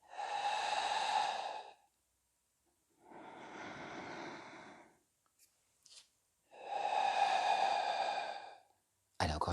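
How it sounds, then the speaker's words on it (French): Three long, breathy exhales during a morning Pilates routine, each a sustained rush of air separated by short pauses, close and fairly loud with a faint voiced quality. "Inspirez, expirez."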